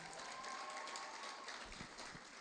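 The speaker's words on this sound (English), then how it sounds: "a round of applause, ladies and gentlemen" Audience applause at a gala and graduation ceremony in a hotel hall, a steady dense wash of clapping from a crowd that fills the whole moment without letup, with a faint tone running underneath.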